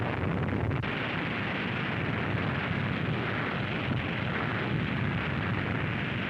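Operation Crossroads atomic bomb test, Able and Baker shots: a steady, dense roar of broadband rumble and noise holds at an even level throughout, with no speech.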